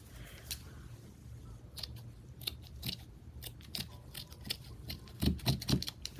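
Scissors snipping through lace tag material, a series of small crisp cuts close to the ear, faint at first then a few louder snips near the end, with no talk.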